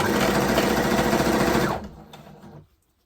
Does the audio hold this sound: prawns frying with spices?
no